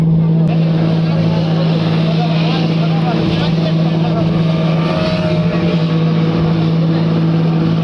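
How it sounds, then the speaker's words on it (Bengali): Passenger launch on the river between Barisal and Bhola, with a loud, steady engine drone and humming tone filling the air and constant water and wind noise, close and continuous. "আমি যদি দেখি আর একটা লঞ্চ আসতেছে সামনে"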